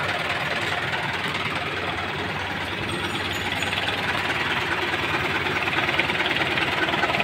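A truck with an Eagle engine and a wide-body cab idles steadily and loudly up close, a continuous rough mechanical rumble with no break across the whole stretch.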